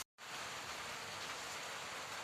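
Rain falls steadily outside a house, a dense even hiss after a brief silent gap at the start, moderately quiet with no voices.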